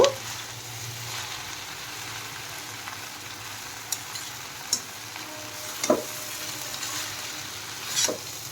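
Egg chowmein stir-frying over a high gas flame at home in street style, a soft continuous sizzle with sporadic sharp clacks and scrapes of a spatula tossing noodles, fairly quiet and without talk.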